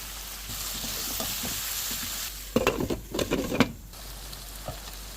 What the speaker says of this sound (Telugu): పుదీనా కొత్తిమీర వేసిన తర్వాత కొంచెం కొంచెం పచ్చివాసన పోయే వరకు వేయించండి